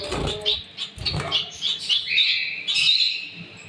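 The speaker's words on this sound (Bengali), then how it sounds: "অত্যন্ত চঞ্চল প্রকৃতির এই পাখিটি আসলে অনেক সুন্দর।" A small caged society finch chirps rapidly up close, with quick high tweets and short trills, alongside light scratching and fluttering movement.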